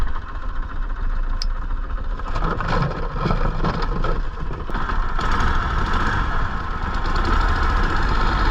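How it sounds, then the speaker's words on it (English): A boat mud motor runs rough in a Texas marsh, a loud continuous engine drone with uneven knocking and sputtering texture throughout, no voices. "that's when I noticed the motor's running rough and something's not right."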